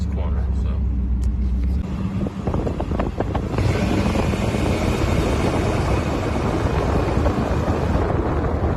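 A car fitted with cheap knock-off two-chamber Flowmaster-style mufflers roars loudly up close and holds a steady, rumbling exhaust drone as it drives through a corner, with wind buffeting the microphone.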